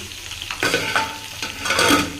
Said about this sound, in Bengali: মাছটা এখানে ভেজে নিচ্ছি